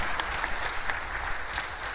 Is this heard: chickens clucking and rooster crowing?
no